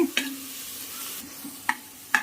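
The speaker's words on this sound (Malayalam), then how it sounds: "നമുക്കിനി മുറിച്ച് വെച്ചിട്ടുള്ള തക്കാളി അതിടാം. അതൊന്ന് ചെറുതായിട്ട് കുക്കാവട്ടെ." Chopped tomatoes cook in a pan for vegetable rice, a soft steady sizzle with a few sharp clinks of a spoon stirring against the pan.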